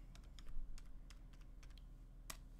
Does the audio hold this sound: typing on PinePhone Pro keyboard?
yes